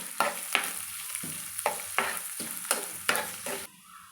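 Onions and green chillies frying in a pan for a bottle gourd curry, with a steady sizzle broken by repeated scraping stirs in an uneven rhythm, close and fairly loud, stopping abruptly near the end.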